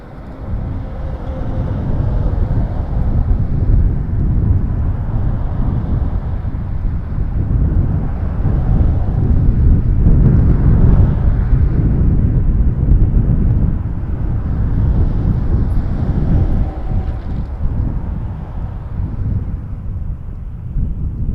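Strong, gusty wind at Toronto Pearson Airport buffets the microphone in a continuous loud low roar that swells and eases over the whole stretch, with no other clear sounds standing out.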